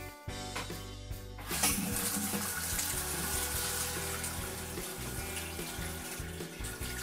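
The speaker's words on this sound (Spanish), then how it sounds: "Vemos que el agua está saliendo y está llenando la cisterna correctamente." Water rushing steadily into a toilet cistern through a newly fitted float valve, loud and close, with a sharp start followed by constant turbulent flow.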